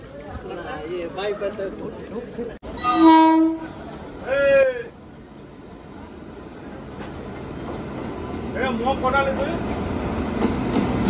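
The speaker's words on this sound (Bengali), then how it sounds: "আমাদের ট্রেন এসে পৌঁছালো নির্ধারিত টাইম থেকে মোটামুটি 7-8 মিনিট আগে নিউ ফারাক্কা জাংশনে" The Saraighat Express pulls into New Farakka Junction with two loud horn blasts over rolling rail noise, then a fainter horn near the end as the train keeps rumbling and people talk nearby.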